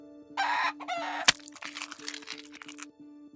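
A chicken gives a few short, loud clucks and squawks with a sharp crack between them, set against a steady background hum, with no talk.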